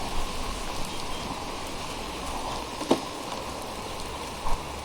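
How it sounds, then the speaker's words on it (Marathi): Steady monsoon rain falls on a trek toward Tung Fort, a dense, even patter with a few louder drips and no one speaking. "पाऊस वाढलाय परत"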